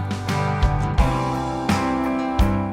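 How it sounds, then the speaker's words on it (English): Blended backing voices sing sustained "ooh" harmonies over a Band-in-a-Box RealTracks band backing, with soft drum hits punctuating the steady chords. "we're now hearing the vocals sing Oohs."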